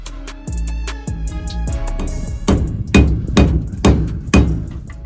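Repeated metal-on-metal hammering as a Leatherman multitool is used to strike old bus parts, starting with ringing resonant clangs and then several sharp, loud, close impacts at a steady beat, with no talking.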